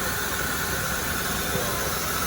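A car engine idles steadily right after being cranked, a constant close hum with no change in pitch or rhythm.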